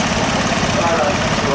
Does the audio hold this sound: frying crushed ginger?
no